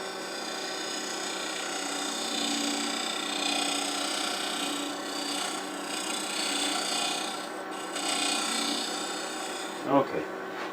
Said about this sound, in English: now we'll just go ahead and sand that up